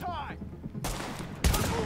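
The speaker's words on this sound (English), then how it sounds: "Go for my double barrel shotgun." A double-barrel shotgun fires in The Division, one sharp boom near the start and another heavy blast later among loud game noise and scattered gunfire.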